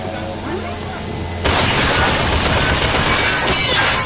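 Rapid automatic turret gunfire in BioShock Burial at Sea Episode 2 erupts suddenly after a quiet stretch of ambient tones, a dense, loud, continuous burst of shots that fills the rest of the moment.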